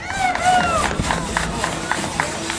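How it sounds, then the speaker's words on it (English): Race spectators cheer and shout as competitors set off. A lively crowd roar with bright whistle-like cries stays steady throughout, with a voice mixed into the noise. "Let's cheer them on, folks."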